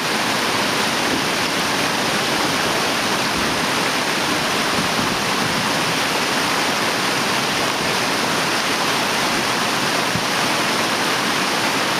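The Callahan River near Whistler, BC rushes steadily in a dense, unbroken roar of water, close and loud with no voices or breaks for the whole stretch.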